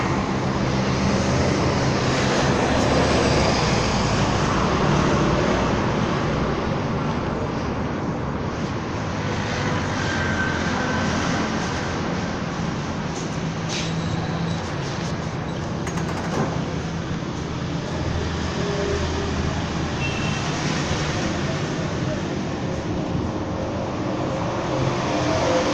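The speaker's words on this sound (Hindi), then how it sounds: "हम मेट्रो में जा रहे हैं लाहौर में" Lahore Metro train in motion on a rainy, cloudy day, a continuous loud rumble and whine from inside the carriage that holds steady for the whole stretch.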